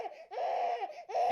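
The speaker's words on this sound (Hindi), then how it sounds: "ये किस बच्चे के रोने की आवाज सुनाई दे रही है?" A baby cries in short, wavering wails, three bursts in quick succession, fairly close and clear with no talking.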